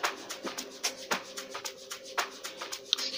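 Doubled strings in an amapiano beat made in FL Studio Mobile, sustained string tones beneath a busy, steady pattern of crisp percussive hits, fairly quiet with no talking.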